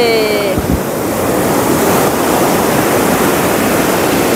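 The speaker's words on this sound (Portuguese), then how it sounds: "Oh, o mar é bem agitado!" Rough sea surf breaks on a rocky beach at Sitio do Conde in Bahia, a loud steady roar of crashing waves with wind buffeting the microphone and a brief whistle at the start.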